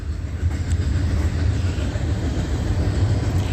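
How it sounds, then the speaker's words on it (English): A freight train hauling a long string of trailers rolls along Amtrak tracks, giving a steady, loud broadband rumble that holds unchanged for the whole stretch with no voices. "But this is a train that's just lugging a whole bunch of various trailers."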